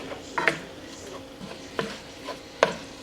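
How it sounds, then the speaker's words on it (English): Ground beef browning with onion and garlic in a pan on a medium burner, broken up by a utensil with a few sharp, close scraping chops spaced irregularly over a soft sizzle. "what I'm doing is just chopping it smaller and smaller"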